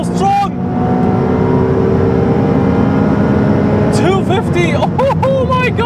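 Ferrari 296 hybrid at full throttle, a strong continuous engine roar climbing in pitch through the gears with a quick shift near the end, loud and up close from inside, while someone talks over it.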